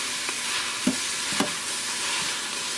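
Ground beef browning in an Instant Pot, a steady sizzle with a few sharp scrapes and taps as the meat is broken up and stirred; no talking.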